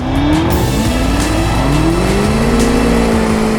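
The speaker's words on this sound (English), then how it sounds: "Foot on the brake, foot on the pedal. Launch active." A Range Rover Sport SV makes a launch-control start and accelerates hard. The engine note climbs loud and strong, with a gear change partway through and tire noise underneath, heard close up from the cabin without talk.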